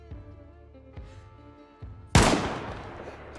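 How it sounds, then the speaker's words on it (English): A new DMR rifle firing .308 rounds in the video game DayZ: a single sharp, loud gunshot with a long rolling tail, preceded by a few soft clicks and thumps from handling the weapon. "So this is the new gun. Shoots 308s from a 10 or 20 round mag."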